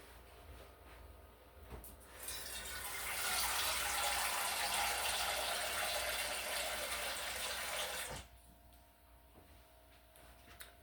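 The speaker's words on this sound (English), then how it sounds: "So you're going to add some water to your pot here." Tap water gushes into a cooking pot in a home kitchen, a steady rushing stream that swells for about six seconds, then cuts off, leaving quiet room tone.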